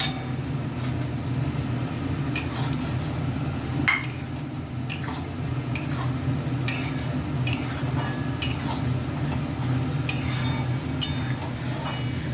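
Fried potatoes and spices are stir-fried together in a pan, with a spatula clinking and scraping intermittently over a steady low background hum.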